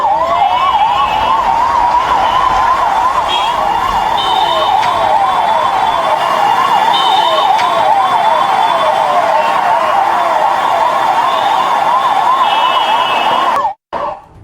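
Ambulance siren wailing steadily and loudly, in a fast repeating rise-and-fall pattern, as the ambulance reaches Medanta hospital; it runs unbroken almost to the end, then cuts off abruptly.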